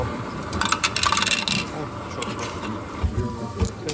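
Coins pouring and clinking as money is counted, a steady metallic jingle with sharper rattles near the end, close and moderately loud, over faint background noise.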